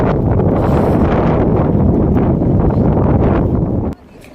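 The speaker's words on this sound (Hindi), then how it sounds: "इतनी तेज हवा चल रही है कि कुछ सुनाई नहीं दे रहा है" Strong North Atlantic wind at Rosses Point beach roars as dense, steady buffeting across the microphone for about four seconds, then cuts off abruptly into a much quieter lull.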